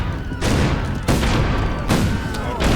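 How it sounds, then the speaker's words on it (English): Loud ballista shots and explosions in a strategy video game burst out in several close, booming blasts, each a sharp crack followed by a crackling decay. "another big ballista shot"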